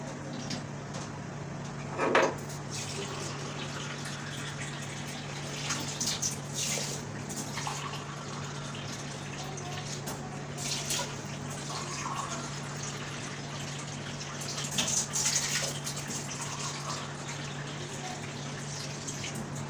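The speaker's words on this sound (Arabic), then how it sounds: "هحط عليهم برضو 5 كوبايات ميه" A long, steady stream of running water filling a pot, with a few clunks and knocks along the way and no talking.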